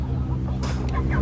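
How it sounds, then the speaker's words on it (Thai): A chicken clucks nearby in short bursts over a steady background hum. "ไก่เนาะ"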